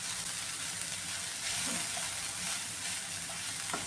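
Banana flower and cowpea thoran sizzles and fries in a pan while being stirred, a steady close hiss with faint scraping of the spoon, no talking.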